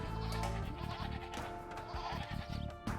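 Sheep in Age of Empires 2 bleat in a game scene, several wavering bleats in quick succession, fairly close and clear over a faint game background.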